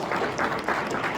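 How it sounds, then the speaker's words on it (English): Audience applause for a conference panel at a Capacity Europe 2025 session, a steady wash of many hands clapping through the whole short stretch, fairly distant and even in level. "Can we get a round of applause for the panelists"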